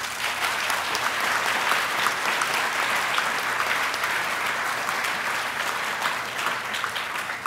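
An audience applauds to welcome a speaker at Hillsdale, a loud, sustained wash of many hands clapping at once, steady and close for the whole stretch.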